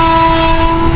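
A train roars past at close range, its horn sounding steadily over loud, constant rumbling.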